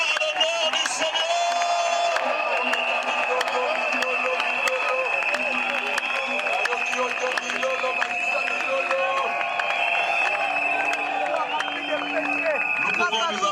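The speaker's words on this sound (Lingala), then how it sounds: "On pousse des cris de joie à l'honneur du Seigneur." A church congregation at an evangelisation campaign cheers, whoops and shouts for joy, a loud continuous crowd roar that fills the whole stretch.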